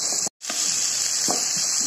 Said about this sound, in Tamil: இப்போ வெங்காயம் சேர்த்துக்கலாம், கூட இஞ்சியும் சேர்த்துக்குவோம், பச்சை மிளகாய் சேர்த்துக்கலாம். சரி, இங்கேயும் நல்லா வதங்கட்டும்.